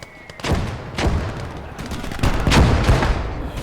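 Heavy artillery and gunfire in a video game battle: deep booming blasts land in a few separate bursts, with rattling gunshots between them, loud and close.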